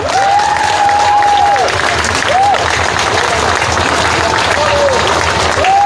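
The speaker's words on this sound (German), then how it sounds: "Bitte noch mal einen großen Applaus an Maximilian Krah" A crowd claps steadily for Maximilian Krah at an outdoor citizens' festival in Nordhausen, dense continuous applause with cheering voices, whistle-like tones and scattered talk mixed in throughout.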